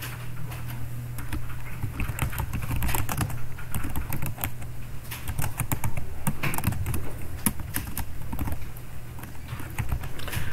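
Steady, close computer keyboard typing continues for about ten seconds, a dense run of quick key clicks while text is entered in Photoshop.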